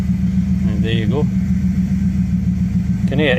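A 1969 Lincoln Continental Mark III engine idles steadily and loudly throughout, a dense low rumble, while someone talks over it in brief bursts.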